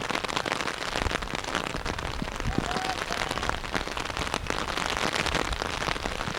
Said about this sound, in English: the rain is really going to affect the game right now